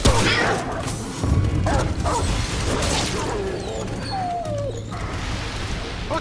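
A dog companion in the game Remnant: From the Ashes whimpers and yips in short, thin cries amid clanking game mechanisms and combat noise, with some muffled speech.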